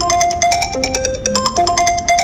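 A phone ringing with a melodic electronic ringtone, a loud, close sequence of bright repeating tones played in a rapid pattern with no talking.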